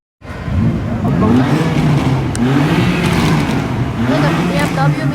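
Cars revving at a BMW meetup on a New York street, engines roaring loudly and close with repeated rises and falls in pitch, while people talk nearby.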